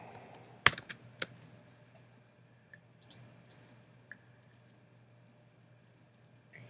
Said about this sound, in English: I'm going to go ahead and type my text in here.